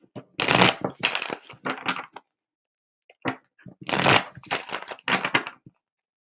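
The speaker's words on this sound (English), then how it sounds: "Let me get some clearing shuffles in." Tarot cards are shuffled for a reading in two bursts of close, crisp riffling and snapping, separated by a short quiet gap. No talk is heard.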